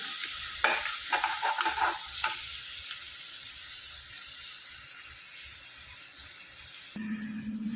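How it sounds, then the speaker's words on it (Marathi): Onion stirred and fried in a pan until soft, a steady sizzle with several scraping stirs early on, then continuous frying hiss alone, close and moderately loud. "अशा प्रकारे हलवून घ्यायचे आपण एकदम नरम करून घ्यायचं कांदा हा असं"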